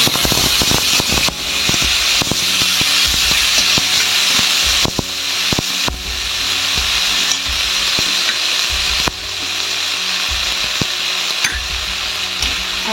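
Ginger sizzles loudly in a wok, a splash of water added and stirred through with repeated scraping and clattering spatula strokes over a continuous hiss of frying.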